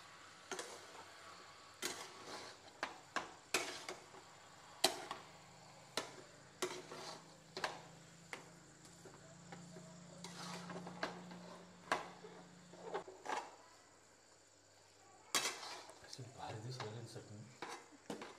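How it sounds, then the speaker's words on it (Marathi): A spoon repeatedly taps and scrapes in a pan while pea chutney with boiled peas is stirred and mixed for samosa filling, irregular close clinks over a low steady hum with a soft sizzle. "आता मिक्स करून घेऊ चटणी पुन्हा।"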